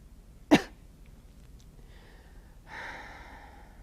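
A single sharp cough near the start, followed by quiet room tone and a soft breathy sound later.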